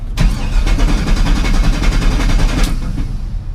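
A 2009 GMC Sierra with the stock 5.3 V8 cranks loudly and rapidly for about two and a half seconds with a rhythmic starter chug, then catches briefly and stops without settling into an idle.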